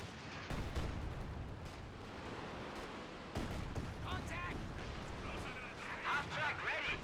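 Panzerwerfer rocket barrage explosions in Company of Heroes 2 rumble as a string of heavy, booming blasts, deep and continuous, with sharper crackling impacts layered over them later.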